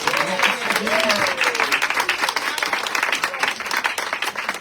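A packed, full-house audience at a live arts event bursts into loud, sustained applause, with a voice briefly heard over the clapping at the start.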